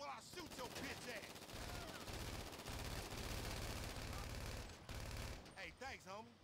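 Rapid automatic gunfire in a GTA Online shootout, sustained bursts of loud shots broken by short pauses, with game music and voices in the mix.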